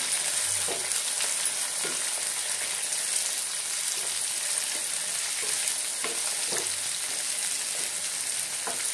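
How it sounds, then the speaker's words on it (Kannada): Chopped onions fry steadily in a pan for a continuous, even sizzle, with occasional soft scrapes of stirring, close and without talk. "ಚೆನ್ನಾಗಿ ಈಗ ಫ್ರೈ ಮಾಡಬೇಕು."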